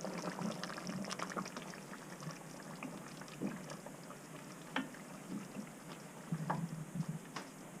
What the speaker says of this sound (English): Hear that bubbling away?